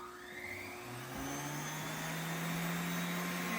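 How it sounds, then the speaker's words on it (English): The small electric blower of an Axis Air Hobby Air 2 fresh air respirator hums steadily, its motor pitch rising slightly as it spins up, with a soft airy whir underneath. "I can hear the air blowing."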